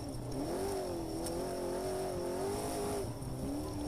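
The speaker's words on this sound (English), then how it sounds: "You can hear those engines going." Two-wheel drive off-road race trucks roar through the San Felipe 250 desert race in Baja, a steady loud engine drone with a rising and falling pitch as they charge past, with no talk over it.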